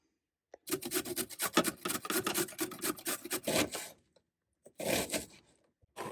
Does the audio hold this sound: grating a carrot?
yes